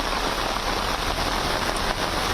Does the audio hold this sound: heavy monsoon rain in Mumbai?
yes